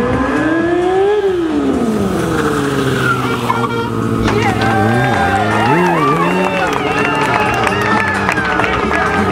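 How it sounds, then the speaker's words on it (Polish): A stunt motorcycle slides sideways with its engine revving loudly, the pitch rising, dipping and swooping as the bike drifts. The rider runs close and continuous with a crowd audible beneath, and someone talks over it. "Proszę bardzo, jazda z boku motocykla w uślizgu."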